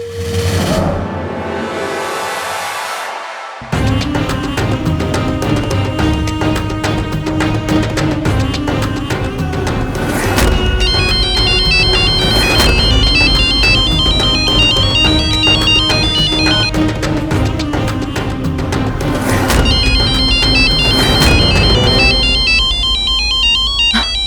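A mobile phone ringtone plays loud and steady, a bright repeating electronic melody over a rhythmic beat that keeps going for about twenty seconds after a brief quieter lead-in, with no one speaking.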